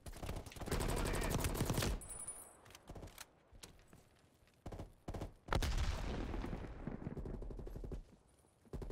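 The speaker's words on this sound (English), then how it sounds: "We're going to be using the AR this time." Assault rifle fire in the video game Call of Duty Black Ops Cold War: loud sustained automatic bursts, a long opening volley followed by scattered shots and then another extended burst, with no voices.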